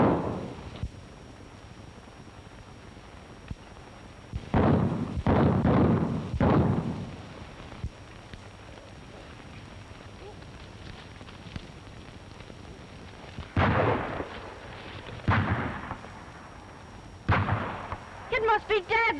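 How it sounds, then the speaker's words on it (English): Shots fired in a 1936 western film, heard as a few loud separate bursts at mid distance within long quiet stretches, with dialogue in between. "They don't seem to be shooting in our direction."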